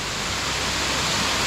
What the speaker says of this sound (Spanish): Estaba mucho más cerca de la cascada, lo más cerca que podemos estar.